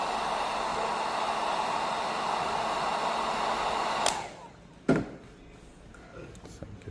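A heat gun blows hot air steadily into the plastic basin of a Steris Medivators tabletop unit, a loud, close hiss. It cuts off abruptly after about four seconds, followed by a short knock and light handling noises.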